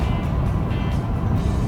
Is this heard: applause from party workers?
no